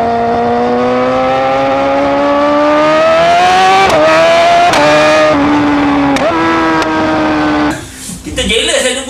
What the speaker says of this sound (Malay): Rupanya bila dia tutup throttle ada bunyi meletup.